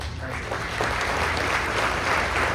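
Audience applause at an 8th grade graduation ceremony for an absent award recipient, a steady wash of many hands clapping at moderate level throughout, a low hum underneath, no voices.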